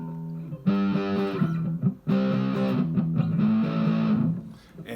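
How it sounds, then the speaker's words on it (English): Distorted electric guitar chugs through power chords in steady strummed bursts with brief pauses, loud and up close, the chords changing with a short gap around the two-second mark. "You could play this whole song with power chords. Just put a little distortion on."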